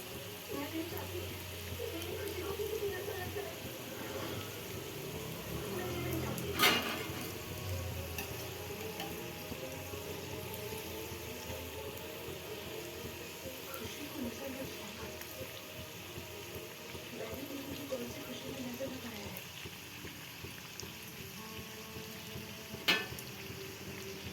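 Karjikai sweet dumplings frying in oil over medium heat until browned: a constant bubbling sizzle runs throughout, with occasional soft clinks of a utensil and low background sounds beneath it.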